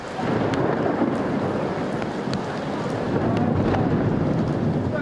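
Heavy rain pours steadily outdoors during a thunderstorm brought by a low-pressure trough along the South China coast in Hong Kong, a dense continuous roar with faint rumbles.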